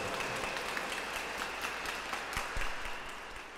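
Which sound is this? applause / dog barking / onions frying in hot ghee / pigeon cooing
applause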